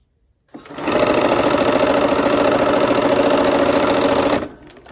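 A sewing machine stitches quilt pieces into rows, starting abruptly and running in one fast, loud, even burst of rapid needle chatter for several seconds before stopping sharply.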